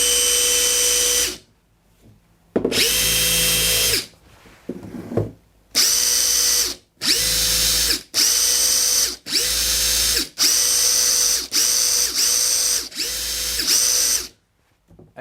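A Makita high-torque impact driver, the 3,900 RPM model, spins up loud and close each time the trigger is pulled, giving about eight sharp bursts of motor whine with short silent gaps between them.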